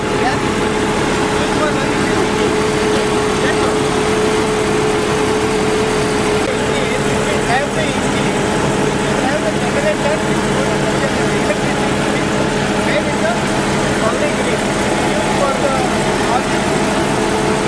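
A gas generator fed by biogas from a Tata composting and gas plant runs as a steady, droning engine hum with a constant tone, continuous throughout under people talking.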